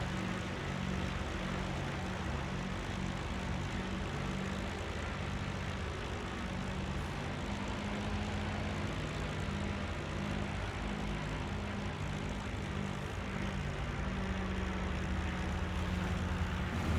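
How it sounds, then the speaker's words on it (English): A Yak-7 fighter's piston engine in IL-2 Sturmovik: Battle of Stalingrad runs after start-up, a steady, even propeller drone with a throbbing low rumble that holds at a constant level throughout. "E for engine start."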